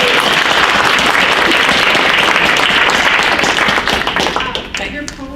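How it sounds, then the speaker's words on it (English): Loud, close clapping from a reading-series audience for a poet, dense and energetic at first, then thinning out and tapering off over the last second or so. "Can we all just clap for that?"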